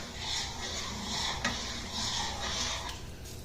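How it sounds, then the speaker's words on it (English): A spoon stirs a thickening red wine sauce for braised short ribs in a pan, giving a soft, steady scraping and gentle sizzle at close range with no talk. "And keep stirring that."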